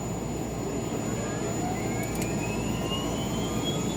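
Turbine of a Bell 222 helicopter spooling up in a flight simulator, a steady loud broadband roar with a faint rising whine climbing through the start and no talk over it.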